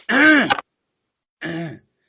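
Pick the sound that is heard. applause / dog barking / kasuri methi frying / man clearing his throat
man clearing his throat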